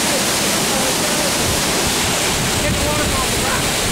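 Constant roaring rush of a waterfall in the Columbia Gorge, loud and close, a dense unbroken wash of water noise filling the whole stretch with no pauses.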